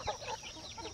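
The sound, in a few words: hen clucking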